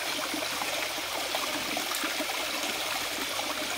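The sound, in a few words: small forest stream of clear water flowing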